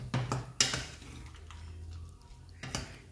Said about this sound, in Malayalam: ഇളക്കി യോജിപ്പിച്ചു.